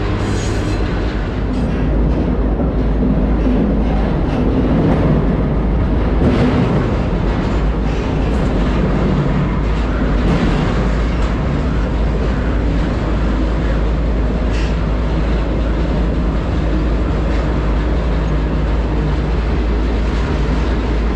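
A moving freight train, heard from aboard near Denver, sends a loud, continuous rumble of wheels and rattling cars with faint squeals and clacks over a steady low roar for the whole stretch.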